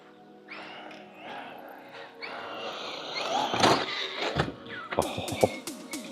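MJX Hyper Go 7303 1/7-scale 4WD brushless RC rally car running on turf, a thin electric motor whine rising and falling in bursts with sharp skids and clatters, fairly close, with a voice speaking over parts of it.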